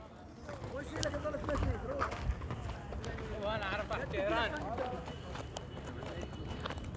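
Horse hooves clip-clop amid crowd noise and talk during Ashura preparations, with riders on horseback; the steps come unevenly and fairly close under steady murmuring voices.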